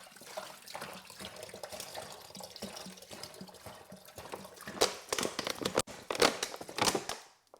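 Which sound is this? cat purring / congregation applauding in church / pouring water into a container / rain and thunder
pouring water into a container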